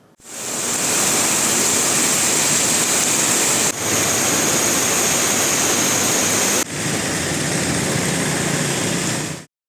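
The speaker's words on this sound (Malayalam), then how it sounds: "കോട്ടയം ജില്ലയിൽ കനത്ത മഴ" Heavy, steady rain in Kottayam district roars with rushing floodwater, a dense continuous wash of sound that briefly cuts out twice.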